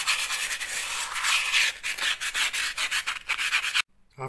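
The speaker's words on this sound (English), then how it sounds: "So we'll just give it a light rub over and then we'll give it a prime up." Light sanding rub over a repaired textured wall damaged by a leaking window: steady, close abrasive scrubbing strokes in a continuous rhythm for nearly four seconds, then stopping abruptly.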